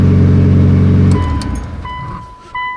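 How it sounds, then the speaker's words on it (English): A cold Mitsubishi Evo VIII engine revs hard up close, a loud sustained roar that drops away after about a second into a fading idle with a brief blip near the end. "let me just rev my car like crazy while it's cold"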